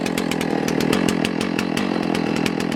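A chainsaw cuts through a log, running loud and close with a continuous high buzzing whine and no voices.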